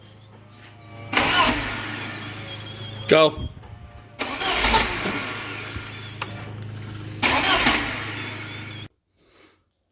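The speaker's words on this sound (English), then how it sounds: "So the car wouldn't start" Starter on a 1983 Porsche 944 cranks in three long grinding bursts without the engine catching, with people talking over and between the attempts before everything cuts to near silence.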